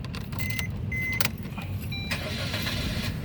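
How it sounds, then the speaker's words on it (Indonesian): A 2015 Suzuki Ertiga 1.4 GL automatic gives a few chime tones and clicks, then cranks and catches into a steady idle, heard close up inside the car. "Oke, sekarang kita nyalakan mobil."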